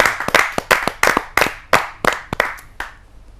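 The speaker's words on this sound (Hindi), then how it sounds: "आइए स्वागत करते हैं हम सब उनका जोरदार तालियों" Applause at a Hindi kavi sammelan poetry show: a small audience claps in sharp, distinct bursts with irregular rhythm, fairly close, tapering off after about three seconds.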